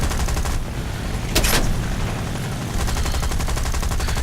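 Aircraft machine guns rattle in War Thunder combat, loud rapid bursts of fire that run almost continuously with a short break and a brief whoosh in the middle.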